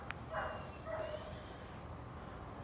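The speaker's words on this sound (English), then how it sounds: "I think the dogs are just barking at each other." Dogs barking at each other in a garden: a couple of short yips and barks early on, fairly distant, then steady outdoor background with no further calls.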